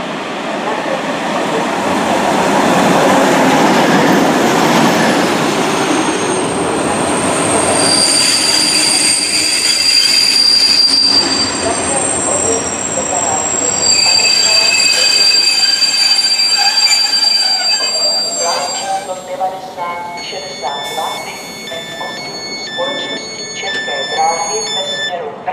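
A České dráhy passenger train arrives at a station, loud and close, with rumbling wheels and piercing brake squeals that ring on as it slows. A station announcement plays over the noise.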